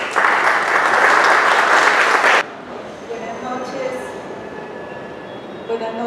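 At a book presentation, an audience welcomes a speaker with loud, dense applause for about two and a half seconds before it cuts off abruptly, leaving a quiet room with faint background noise.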